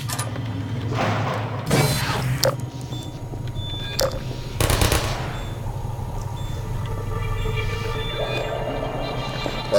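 Sentry turrets in Half-Life 2 let off several sharp, loud bursts of gunfire at irregular moments over a steady mechanical hum and faint electronic tones.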